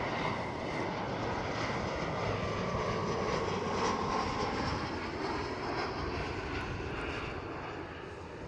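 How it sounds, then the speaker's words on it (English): A KLM Cityhopper Embraer E175 jet at Amsterdam Schiphol roars loudly and steadily, then fades slightly over the last second or two. "And that's KLM City Hopper"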